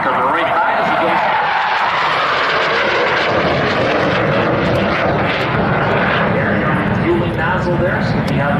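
A Boeing EA-18G Growler jet passes at a Michigan air show with a loud, continuous engine roar that fills the whole stretch, while a commentator talks over it.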